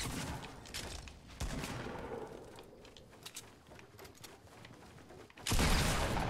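Rapid bursts of gunfire in a Fortnite Battle Royale match, several volleys of shots crackling over a busy game soundscape, with a loud burst near the end.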